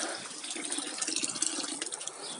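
Tap water runs steadily over freshly picked apricots from a young home-grown tree as they are washed, a continuous close splashing gush without speech.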